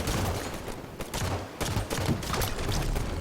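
Light rifle fire in a first-person shooter game: rapid bursts of close, sharp shots repeating continuously with brief pauses, no talk over it.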